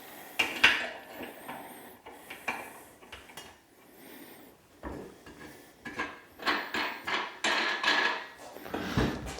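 Metal leg extension attachment being taken off a squat rack, with loud irregular clanks, scrapes and knocks of metal parts and washers close by, coming in scattered bursts between brief lulls.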